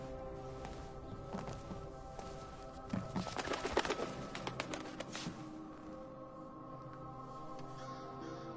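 A bird coos in the stealth video game Thief, a soft dove-like call that swells briefly in the middle over a constant ambient drone, with faint footsteps nearby.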